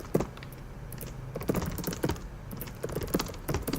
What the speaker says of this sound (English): just typing there so that the chat comes up